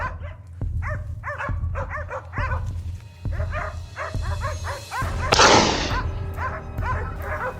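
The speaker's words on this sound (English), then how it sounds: "Not long after, the dogs barked again." Hunting dogs on a mountain trail bark repeatedly in quick, loud, close volleys, with a sharp crack-like burst midway and steady outdoor background noise.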